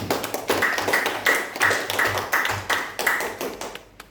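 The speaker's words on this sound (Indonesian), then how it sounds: "tepuk tangan untuk Bu Erni" A small group at a teachers' session claps for a speaker, with a few distinct, fairly close claps falling in a loose rhythm for several seconds before fading out.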